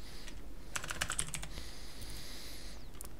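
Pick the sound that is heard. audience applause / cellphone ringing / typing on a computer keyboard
typing on a computer keyboard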